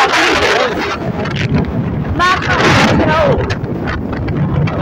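Strong wind rushes and buffets past the microphone during a vehicle ride on a road trip from Dharan to Sankhuwasabha, a loud continuous roar with faint voices briefly audible underneath.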